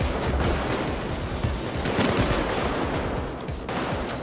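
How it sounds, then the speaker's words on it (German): Dense gunfire during a Payday 2 heist getaway, a shotgun among the weapons, crackling in overlapping bursts from several directions without pause for the whole stretch, loud and close. "Ich werd von überall beschossen"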